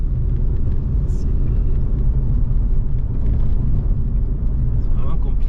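A car is driven on the left along roads in Zanzibar, giving a loud, close, steady engine and road rumble throughout, with someone talking over it.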